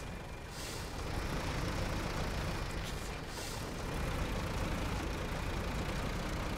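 Old tractor engine in the Tractor Touchan video game, a steady loud rumbling drone with a faint hiss that runs unbroken through the clip while the tractor struggles in mud, with no speech.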